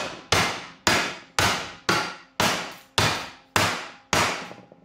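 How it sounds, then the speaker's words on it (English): A hammer smashes against a metal hydrofoil tower, striking about nine times in a steady rhythm. Each hit is a loud, sharp metallic bang that decays quickly before the next blow. "So I've got my buddy here with a hammer. And we're just smashing it pretty good."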